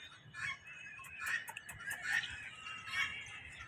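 A hen in a park in Karachi gives soft, intermittent clucks at a moderate distance, with faint background noise between the calls.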